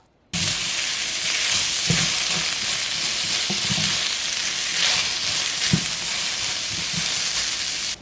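Ingredients are stir-fried in a pan with salt and olive oil, giving a loud, even sizzle that starts abruptly and runs steadily, with scattered spatula scrapes and taps.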